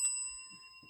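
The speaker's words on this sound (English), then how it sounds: "it's just ring the bell" A small bell rings once at the start with a bright, sustained metallic tone that lingers and slowly fades, while faint soft sounds stir beneath it.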